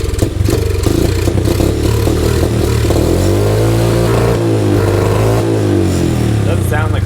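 Honda CRF 50 motorcycle engine running rough and bogging, unable to idle, a loud, close, clattering drone that sags and rises unevenly in pitch while a person talks over it.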